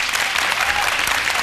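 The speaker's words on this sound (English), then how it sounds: "Round of applause." An audience applauds at a televised South African youth leadership competition, a dense, steady burst of clapping that stays even and fills the short moment with no voices on top.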